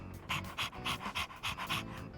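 Dog panting in the video game Persona 3 Reload: quick rhythmic breathy huffs, about seven bursts in steady succession, close and clear with a soft game background beneath.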